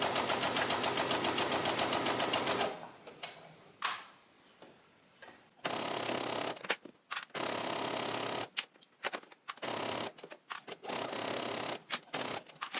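A sewing machine understitches the neckline of a dress, running slowly: a steady rapid stitching run at first, then a quiet pause and several stop-start bursts, close and clear with no talking.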